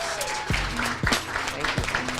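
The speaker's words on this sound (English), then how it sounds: "one more round of applause for our board of directors" A gala audience at a black-tie business and professionals event applauds its board of directors, steady clapping filling the room with some louder individual claps and a few voices mixed in.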